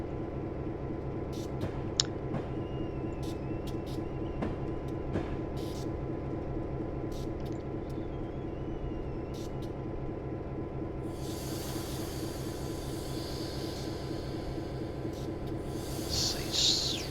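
Train cars in Train Simulator 2020 rolling downhill on the Soldier Summit route with a GP9 locomotive: a steady low rumble and rhythmic clatter throughout, with brief squeaks and a hissing burst of air near the end.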